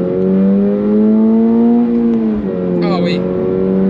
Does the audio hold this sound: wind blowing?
no